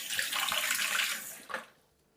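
Tap water running into a sink while moldy fruit is washed, a close steady splashing stream that briefly surges and then stops.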